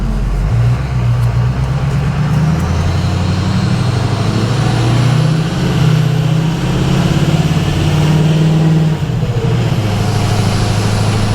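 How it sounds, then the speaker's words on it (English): A turbocharged car with a big turbo drives around the block, its engine droning steadily throughout with shifting pitch as revs rise and fall, and a faint high turbo whistle rising over the road noise, near and loud. "let you hear some of the cool spoolie noises from the turbo"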